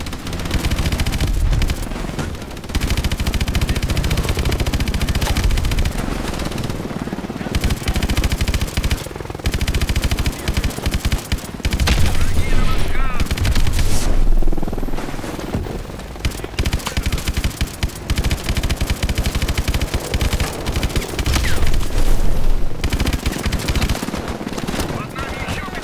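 Gunfire at landing boats in Call of Duty, with long bursts of heavy machine-gun fire and booming explosions rattling nearly continuously, briefly pausing between volleys, as someone talks over the shooting.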